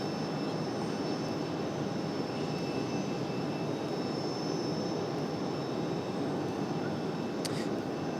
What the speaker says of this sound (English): Go a little CRJ action back here in the alleyway. Push back.